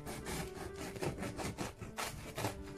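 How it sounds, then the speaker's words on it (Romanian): A knife saws through a loaf of homemade bread with a soft, softened crust, giving repeated rasping back-and-forth strokes, close and fairly quiet, with no talking. "Haideți să tăiem o bucată zdravănă de pâine."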